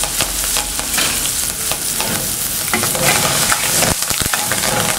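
Garlic, green chilli and curry leaves crackle and sizzle loudly in hot oil, with busy stirring scrapes and a few sharp clatters near the end.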